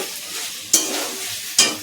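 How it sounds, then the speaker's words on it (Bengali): Potatoes fry in a small amount of oil in a pan, a close, continuous sizzle with two sharp scraping stirs about a second apart, no voices. "একদম অল্প তেল দিয়ে আলু ভাজা করছি"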